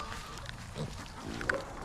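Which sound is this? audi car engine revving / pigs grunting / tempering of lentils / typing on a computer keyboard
pigs grunting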